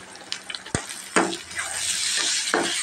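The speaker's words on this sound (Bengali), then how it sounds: "এখন আমি মরিচ মশলা এগুলো ঢেলে দেব।" Chili and spices fry with prawns in a pan, a bright sizzle punctuated by a few sharp stirring scrapes and knocks against the metal.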